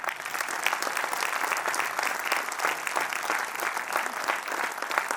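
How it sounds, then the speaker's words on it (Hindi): An audience at a distributor training session gives a steady, dense round of applause, moderately loud and continuous with no talking over it. "आप लोगों के लिए स्पेशल ताली"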